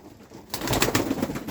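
Soft cooing of antique pigeons from Mardin, a few low murmuring calls close by after a brief quiet start, with faint rustling underneath.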